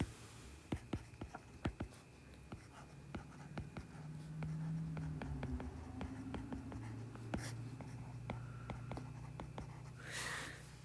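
Someone writes "Ka" by hand: a close, quiet scratch and tap of a pen or pencil making a string of short strokes and clicks, with a faint steady hum underneath.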